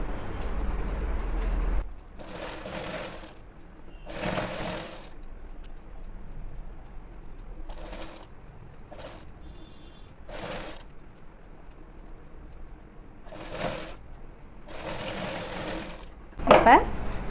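Sewing machine stitching a seam on a pair of trousers in short separate bursts, each running a second or so with quiet pauses between, with a few soft background sounds in the gaps.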